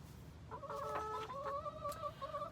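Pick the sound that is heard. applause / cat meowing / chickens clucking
chickens clucking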